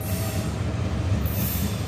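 A freight train passes close by at Point of Rocks, a loud continuous rumble of rolling wagons with wheel squeal and steady rail noise throughout.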